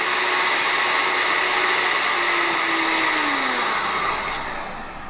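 A Hoover ONEPOWER FloorMate Jet cordless wet vacuum for hard floors runs on its high setting, a loud, steady whirring motor roar close by that holds level and then eases down slightly near the end, with no talking.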